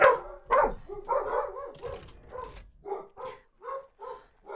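Dogs in the ARK: Mobile dungeon bark loudly and repeatedly, a dense burst of overlapping barks settling into a steady rhythmic run of barks, close and prominent, with no talking.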